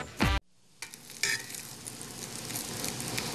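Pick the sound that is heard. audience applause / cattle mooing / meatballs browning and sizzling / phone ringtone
meatballs browning and sizzling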